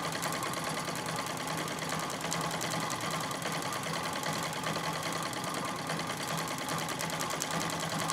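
A Singer 66 treadle sewing machine runs steadily through free motion quilting with polyester thread and a Microtex needle, giving a continuous, even mechanical whir and rapid stitching rhythm up close, with no talking.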